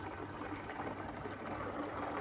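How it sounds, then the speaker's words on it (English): Boiling water poured from a kettle into a container while printing miniature wargame figures, a steady, soft, even hiss and rush of liquid throughout, with no talking. "top it up with some boiling water"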